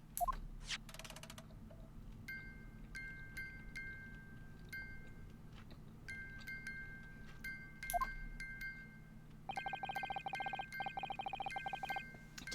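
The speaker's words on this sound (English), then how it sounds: "the sound emanating from this music box is not supposed to be music" A music box plays in The Great Ace Attorney Chronicles, giving out sparse, clear metallic chimes over a steady low hum, with a quicker run of ringing notes near the end.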